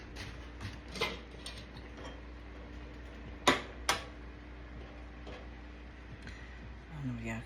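A metal pot handled in a home kitchen while potatoes boil, a few sharp clinks and scrapes over a quiet background, close, with brief voice in places.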